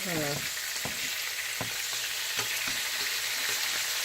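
Catfish fillets fry in a non-stick pan with a steady, bright sizzle throughout, broken by a few soft utensil scrapes and taps as the pieces are moved, all close and without talk.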